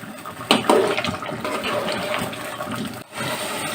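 Potato curry (alur dom) sautéing in a pan gives a loud, steady sizzle up close, with a brief stir or scrape partway through.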